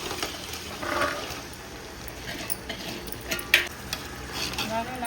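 Chicken sautéing in a pot for Sunday biryani, a soft continuous sizzle with occasional scraping stirs and clinks, close and moderately quiet.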